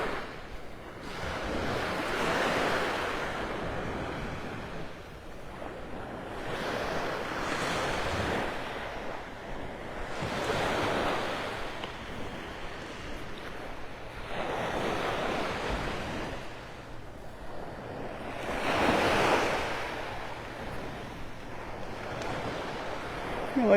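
Ocean surf rolls onto a fog-covered beach at Clam Pass Park, with waves swelling and breaking in slow repeated surges about every four to five seconds, close and steady, with some wind noise on the microphone and no talking.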